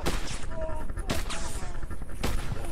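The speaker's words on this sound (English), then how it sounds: "I think I'm getting shot at." Gunshots in a video game fired at the player, a few loud sharp cracks about a second apart over dense noisy clatter, close and harsh.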